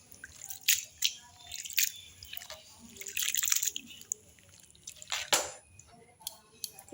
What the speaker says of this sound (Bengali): জলটা ঝরে যাবে।